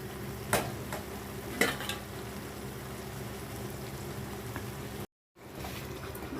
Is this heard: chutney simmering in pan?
yes